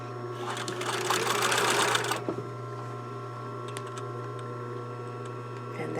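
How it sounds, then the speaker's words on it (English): An older lab sewing machine stitches the collar edge of a blouse in a dense, fast whirring burst for about two seconds, then stops, leaving a low steady motor hum and a few faint clicks. "This is one of the older sewing machines in the lab"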